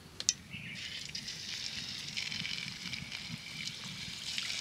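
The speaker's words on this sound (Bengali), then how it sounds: "তেল গরম হয়ে গেছে, এবার পিঠেগুলোকে আমি তেলের মধ্যে ছেড়ে দেব।" Palm-fruit pitha sweets fry in hot oil in a pan, giving a steady soft sizzle and hiss with a brief pop near the start, fairly quiet and alone.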